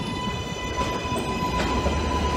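A subway train runs with a steady rumble and faint wheel squeal, a continuous rolling rail noise heard from inside the car with no voices.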